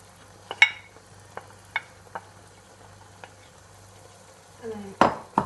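A spoon stirs burrito filling seasoned with taco seasoning in a pan, a few scattered clinks and scrapes of utensil on metal over faint sizzling, ending in a louder scraping clatter.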